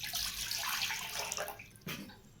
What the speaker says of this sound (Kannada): ಅದಕ್ಕೆ ಸ್ವಲ್ಪ ನೀರು ಹಾಕ್ತಾಯಿದ್ದೀನಿ.